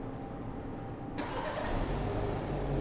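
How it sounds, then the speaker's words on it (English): A 2022 BMW X3 30i fires up by remote start: quiet idle-like hum, then a sudden crank and catch partway through, settling into a louder, steady engine idle. "with a triple click of the key fob, 1, 2, 3, it's going to remote engine start that vehicle."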